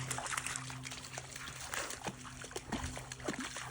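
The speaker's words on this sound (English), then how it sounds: "Cool little creek." Water trickles and splashes steadily over rocks in a small creek, close by, with faint background noise throughout.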